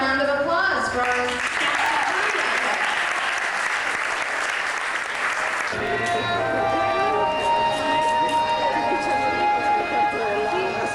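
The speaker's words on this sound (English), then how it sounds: "How about a big round of applause for our" An audience at a Universal Studios Florida show in 1991 applauds in a dense, continuous wash that blends into music and ambient crowd noise, with the sound character shifting midway.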